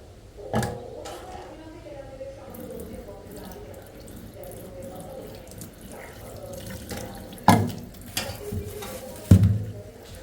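Hilsa fish is washed under a running kitchen tap, water splashing steadily into a sink with a few sharp knocks and clatters, while a voice talks faintly in the background.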